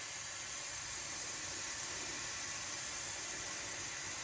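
Steam hisses steadily from a pressure cooker as it is vented before opening, a thin, continuous high-pitched spray of even loudness with no other sounds.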